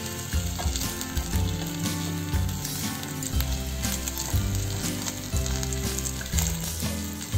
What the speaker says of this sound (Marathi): आता आपण यामध्ये 1 मोठा चमचा तूप घालून घेऊ आणि पुन्हा चांगलं एकसारखं ढवळून घेऊ।